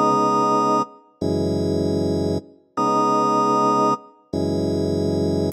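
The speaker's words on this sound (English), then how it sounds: "The first sound we started with was this farfisa organ." Sustained Farfisa organ chords, bright and reedy, played in four long held stabs separated by short silences.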